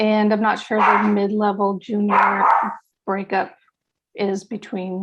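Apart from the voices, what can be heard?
dogs barking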